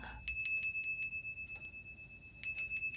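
House bells ringing in a rapid, repeated metallic jingle, starting up, fading and then returning louder, with a faint voice beneath.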